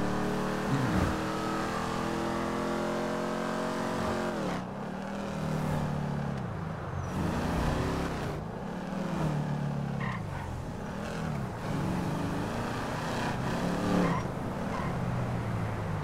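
An American supercar engine drones steadily in GTA 5, pitch rising and falling through repeated revs and gear shifts, with a loud continuous roar throughout.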